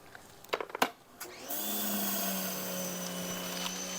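A few clicks and knocks, then the motor of a Ryobi 2000 psi, 1.2 gpm electric pressure washer (RY142022) whirs up and settles into a steady high-pitched electric whine at an even, moderately loud level.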